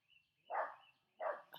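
Two sharp dog barks ring out about half a second apart, moderately distant and standing alone against near silence.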